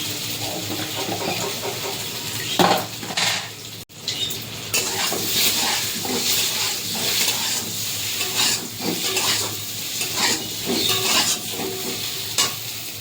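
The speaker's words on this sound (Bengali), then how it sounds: "ঘাটি কচুটা এই যে ভাজা হয়ে গেছে" Pieces of taro, seasoned with turmeric, fry in a pan for a taro and hilsa fish curry. A steady, close sizzle runs throughout, broken by repeated scraping stirs, with no talking.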